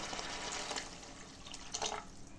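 Water poured into a pan of chicken gravy, a quiet steady trickling splash lasting a couple of seconds, alone and close.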